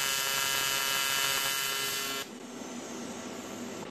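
TIG welding on aluminum with the torch held at a backwards angle produces a steady, loud electric buzz and hiss. Partway through the tone suddenly drops and softens, and it carries on under no talking.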